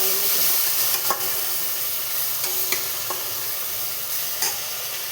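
A paste of cashew, raisin, coconut and poppy seed fries in a pan, giving a steady close sizzle with occasional scraping stirs and no voices.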